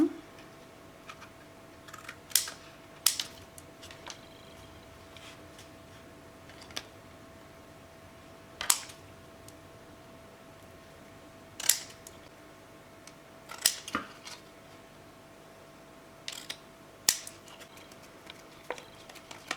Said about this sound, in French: Je vais couper l'excédent.